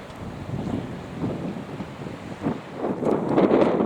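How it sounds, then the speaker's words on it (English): Wind buffeting a microphone aboard a boat at sea while heading straight into it, a steady close roar with gusts that swell louder toward the end. "we're picking up all the wind actually. Straight into it."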